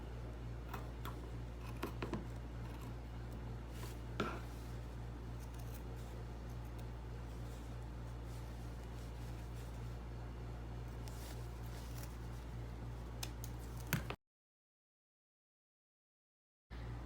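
Scissors snip through fabric parts for a zippered pencil case, faint intermittent cutting clicks over a steady low hum, ending in a brief silence.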